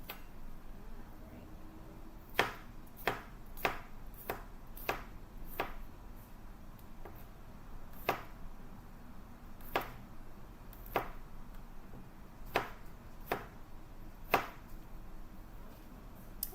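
Garlic cloves chopped with a knife on a cutting board in a home kitchen, a steady series of crisp, close knocks with short pauses between strokes, no talking.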